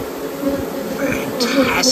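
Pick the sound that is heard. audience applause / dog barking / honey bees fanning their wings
honey bees fanning their wings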